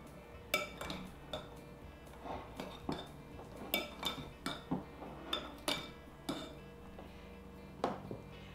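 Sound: stirring mustard and maple syrup dressing in a bowl

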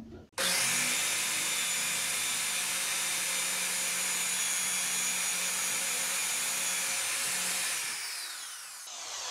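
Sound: power drill boring hole in wood

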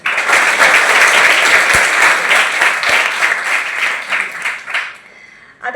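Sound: applause from students and teachers

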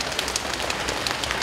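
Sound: group slapping knees to imitate a rain shower

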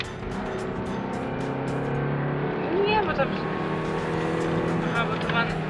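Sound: car accelerating on the road

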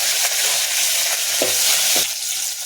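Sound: curry leaves and green chillies frying in sesame oil

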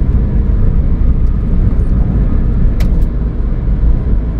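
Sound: Ford Fiesta 1.0 EcoBoost accelerating, kickdown

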